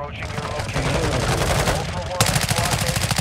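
Rapid automatic gunfire in Call of Duty: Modern Warfare II Warzone 2.0 DMZ rattles continuously, loud and close, with a burst of faster shots toward the end.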